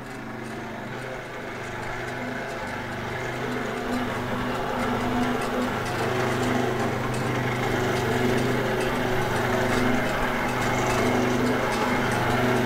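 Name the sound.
noodle making machine running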